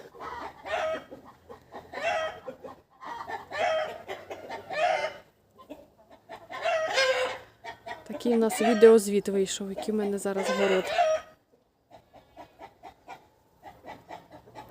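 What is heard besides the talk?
rooster crowing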